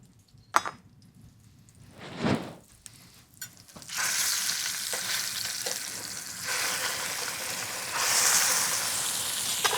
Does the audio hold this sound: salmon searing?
yes